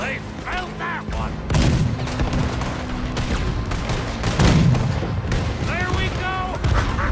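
Gunfire aimed at a boat in Red Dead Redemption 2, with repeated loud booming volleys and heavy thuds across the scene, shouting voices calling out over and between the shots.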